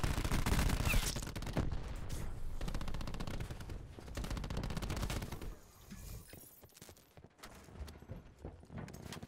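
A rapid-fire PDW in a video game lets off dense, continuous automatic bursts, loud and close, with a brief dip before the firing resumes.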